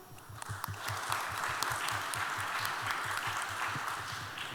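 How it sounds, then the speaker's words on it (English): Audience applause at a youth climate town hall meeting in Seoul, a steady wash of clapping from a seated crowd, moderately loud and continuous over several seconds with a low rhythmic thump underneath. "Everyone, please give a big round of applause."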